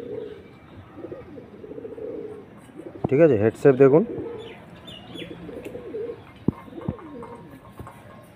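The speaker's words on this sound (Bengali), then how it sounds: "এটা নর পায়রা, আর এরই মাদা পায়রা" Pigeons coo close by in soft repeated low calls, with one louder burst of cooing in the middle, while someone talks over them.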